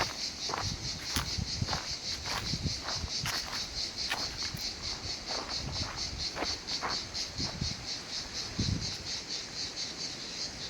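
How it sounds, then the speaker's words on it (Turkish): Field crickets chirp steadily in a high, pulsing chorus on a shrubby forest slope, with footsteps crunching nearby and a few faint birds in the background. "Cırcır böceklerinin sesleri."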